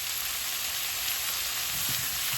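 Onion sautéed with mustard, fennel and fenugreek seeds in hot oil gives a dense, steady, close frying hiss, with a few faint stirring knocks near the end.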